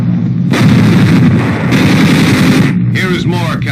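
Artillery fire and bombing during the wartime siege of Corregidor Fortress in the Philippines, from archival film. A loud, dense barrage of blasts and rumbling roars goes on without a break, then thins into scattered sharper reports near the end.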